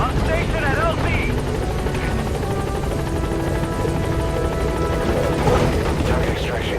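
Pequod helicopter from Metal Gear Solid V: The Phantom Pain, a steady loud rotor roar holding throughout, with faint game voices and effects over it.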